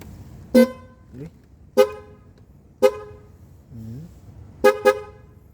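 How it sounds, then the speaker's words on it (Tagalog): Motorbike horn fitted on a rider's bike, honking in five short loud blasts, the last two close together, with quieter engine rumble and brief voice sounds between them. "Lakas ng busina."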